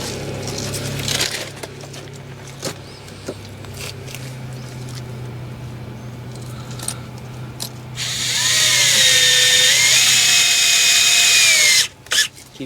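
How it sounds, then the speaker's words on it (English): A power drill drives screws into curved ICF foam blocks, with short clicks and handling at first, then a loud, close, sustained whining drive run of several seconds that stops abruptly. "Angela's screwing in the curves here"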